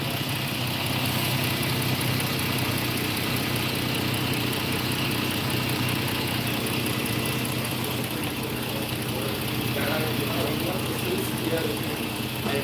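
A Chrysler car's engine idles smoothly and steadily at close range with a continuous broadband hum and no stutter, alongside faint background noise.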